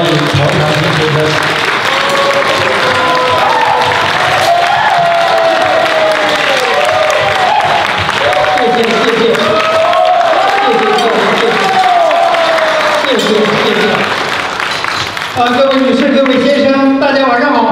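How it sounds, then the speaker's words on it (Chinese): A large banquet audience at a Las Vegas medical association gathering breaks into loud, sustained applause that runs unbroken for many seconds, with voices rising over the clapping. "请大家以热烈的掌声来欢迎曹长兴先生。"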